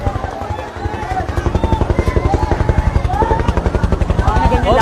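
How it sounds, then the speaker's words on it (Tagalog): A helicopter flies low over a residential fire in Tondo, Manila, its rapid rotor thump loud and steady throughout, while excited bystanders shout beneath the beating blades. "Ayan na ang helicopter!"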